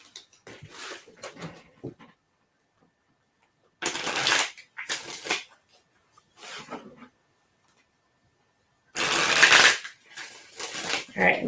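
Tarot reading cards are shuffled in bursts of crisp riffling and flapping, several separate rounds with quiet pauses between them, close and fairly loud.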